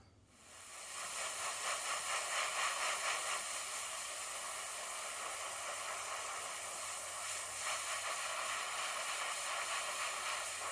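An airbrush sprays thinned model paint onto a 1/48 scale Fokker D.VII model, a soft, steady hiss that begins after a brief moment and continues evenly, close and unbroken.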